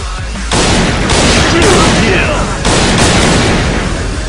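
Heavy sniper rifle gunshots in a video game boom out close and loud, about three blasts roughly a second apart, with someone talking underneath.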